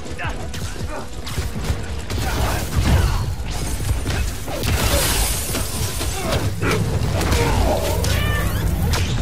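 A cat meows in Marvel's Spider-Man: Miles Morales, short video-game meows mixed with clattering mechanical game effects and crunching impacts, with a voice speaking at points.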